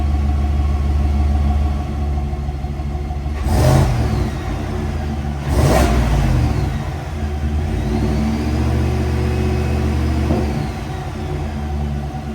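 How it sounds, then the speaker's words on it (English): Stock exhaust on a 6.6L L8T pickup truck rumbles steadily at idle just after startup, a low, even drone with two brief swells as the engine blips, close and alone without talk. "here's what the stock exhaust sounds like. A little bit of a rumble when she first starts up,"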